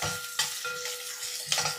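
Crushed garlic cloves and finely chopped onion sizzle in hot tempering oil for Telugu pappu charu, a steady close frying hiss with a few stirring scrapes from a spoon in the pan.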